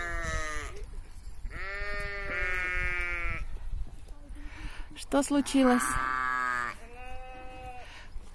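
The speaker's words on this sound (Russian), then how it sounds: "Бараны, почему вы орете?" Rams on a farm bleating loudly, several drawn-out overlapping cries in a noisy chorus, with a person's voice briefly heard between them.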